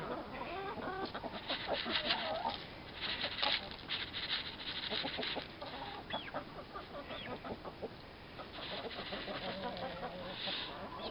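Chickens and a young black-and-white rooster cluck and peck steadily while eating black sunflower seeds on a homestead, with soft overlapping clucks and pattering pecks close by and no talk.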